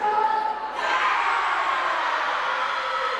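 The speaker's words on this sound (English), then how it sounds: "We're getting a lot of boos here for the Ripper." Wrestling arena crowd booing the Ripper, a steady broad roar of jeers swelling after a brief lull and holding loud and dense throughout.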